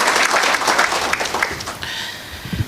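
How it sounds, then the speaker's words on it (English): An audience at a national border management conference claps to welcome a speaker, a short burst of dense applause that thins out toward the end. "A round of applause to welcome him."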